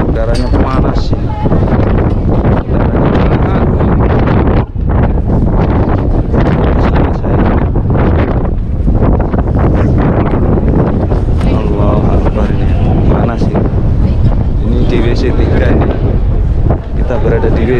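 Strong wind at Masjidil Haram in Mecca buffets the microphone in loud, continuous roaring gusts for the whole stretch, with no clear talk over it.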